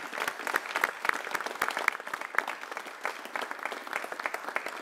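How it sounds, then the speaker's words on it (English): Crowd at an outdoor bike share program launch in Louisville applauds the sponsoring companies, a dense patter of many hands clapping with individual sharp claps standing out near the front. "let's give these great companies a round of applause"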